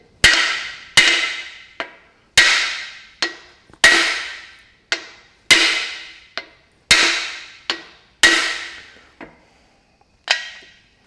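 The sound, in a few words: big hammer driving dry cylinder liners into tractor engine bore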